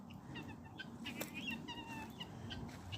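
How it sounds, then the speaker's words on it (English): Guinea fowl kept in a farm pen give short, repeated chattering calls at moderate distance, irregular bursts over a low outdoor background with no talk. "We've got guineas in here. That's the 3 remaining guineas."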